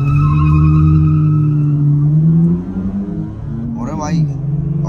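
A stock VW Virtus GT and a Stage 2 tuned Honda City rev hard at a drag race, a loud droning engine roar that drops and rises again as gears shift.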